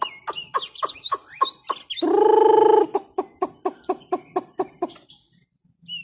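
A young songbird in training sings alone at close range, giving a run of quick sharp chirps and whistled notes, then a sustained buzzy harmonic call, then more rhythmic chirps that fade at the end.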